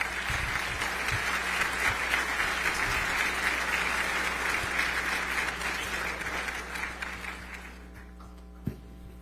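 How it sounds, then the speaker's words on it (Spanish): Warm audience applause welcoming a speaker at the Foro México por un Mejor Futuro, a sustained crowd of clapping hands that gradually fades out, leaving a faint room hum and a single late clap. "Lo recibimos con un fuerte aplauso"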